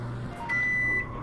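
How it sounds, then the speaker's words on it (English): A microwave oven in a VR video game gives a short steady electronic hum with a thin sustained tone for about half a second, heard close and alone over a low background drone. "Close the door and let me get a shot of the microwave running."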